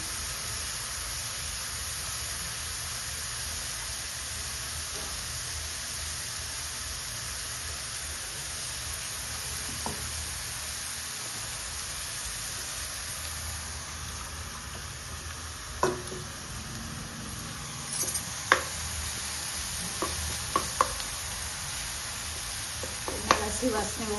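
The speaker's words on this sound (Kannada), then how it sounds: "ಚೆನ್ನಾಗಿ ಫ್ರೈ ಆಗುತ್ತೆ ಶುಂಠಿ ಬೆಳ್ಳುಳ್ಳಿ ಪೇಸ್ಟ್ ಹಾಕ್ತಾಯಿದ್ದೀನಿ" Ginger garlic paste fries in a pan for pav bhaji, a continuous soft hiss and sizzle with scattered clicks of stirring that grow more frequent toward the end.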